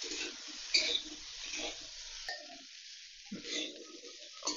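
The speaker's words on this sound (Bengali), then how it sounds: "এই চানা মশলাগুলো দিয়ে দেবো, দিয়ে ভালোভাবে একটু মশলা নাড়াচাড়া করে দেবো, কষিয়ে নেবো।" Chana masala spices stirred and frying in a pan for a chana paneer dish, a soft sizzle with scraping stirs, close and moderately quiet, no talking.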